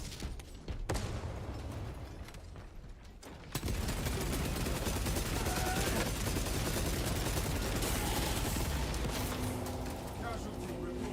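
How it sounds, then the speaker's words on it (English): A frag grenade detonates in Space Marine 2 amid a roaring firefight, dense bursts of gunfire and blasts swelling into a sustained loud wall of combat noise, with voices shouting over it. "Throwing frag grenade."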